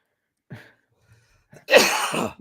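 Two bursts of coughing: a short cough, a pause, then a long, harsh, loud hacking fit that continues for nearly a second.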